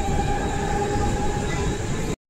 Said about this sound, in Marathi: गाडी येत आहे, ती गाडी हे करायची, पकडायची आणि जायचं.